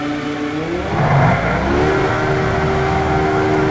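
A Formula 1 car engine in the F1 Challenge racing game hums along the pit lane, a steady mid-pitched whine that rises and holds, loud and constant.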